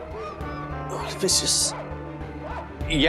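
A man imitates a dog, giving yelping, bark-like cries mixed with shouting in a busy housing-society scene, with other people talking loudly over and around him.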